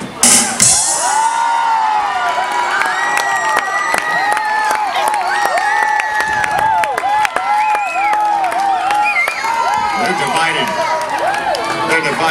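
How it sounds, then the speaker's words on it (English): A loud theme-park theater audience at the Nemo musical in Disney's Animal Kingdom roars with cheers, shouts, whoops and boos, clapping scattered through, the noise continuous and dense throughout, with excited voices rising over the din. "I hear boos, I hear cheers and clapping and screaming and laughing and boos."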